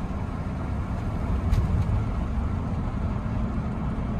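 A pickup truck with a surging fault drives along the road, giving a steady, fairly loud engine and road rumble close by with no talking.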